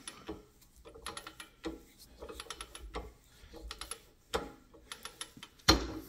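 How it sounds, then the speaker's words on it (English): Quiet metallic clicking of the ratchet and pawl on a Dake Model 1 3/4 three-ton ratchet leverage arbor press in irregular bursts, with mechanical clunks and a louder knock at the end. "you kick this pawl up, and then you can hear it ratcheting"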